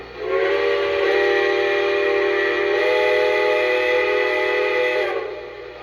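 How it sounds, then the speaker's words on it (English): A Lionel Legacy Blue Comet 10-wheeler model train's steam whistle blows one long, steady chord-like tone for about five seconds, close and fairly loud, then cuts off. "Here's the whistle."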